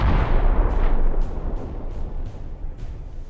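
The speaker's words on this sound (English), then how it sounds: "The tank fires." A tank fires its gun in a combat setting, a heavy booming blast that rolls off into a long rumbling decay with faint distant pops behind it.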